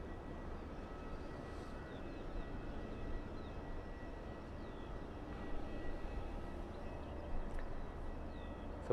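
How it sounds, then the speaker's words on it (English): An ATR turboprop airliner taking off from London Southend Airport, heard from a distance as a faint, steady engine drone under a low background rumble, with no talking. "So with that nice headwind, the ATR is going to be up very, very quickly."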